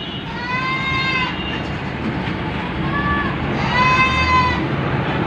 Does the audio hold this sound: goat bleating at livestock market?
yes